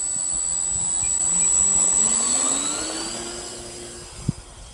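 Twin electric motors of a Dynam Messerschmitt Bf 110 V3 RC model plane whine and build into a steady, rising drone during takeoff, then ease off with a brief knock near the end.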